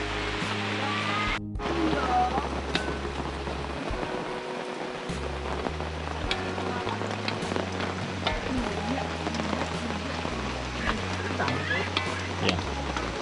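Steady rain hisses over a campsite during a camping trip, a continuous wash of drops with a low hum underneath, while people talk in the foreground.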